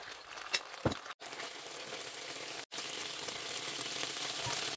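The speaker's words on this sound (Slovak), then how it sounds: "panvice vložím veľkú lyžicu bravčovej masti, nechám rozohriať a prikladám mäso po častiach, zatiahnem z obidvoch strán" Pieces of beef sear in hot melted pork lard in a pan, giving a steady crackling fry with a brief clunk near the start and two momentary cut-outs.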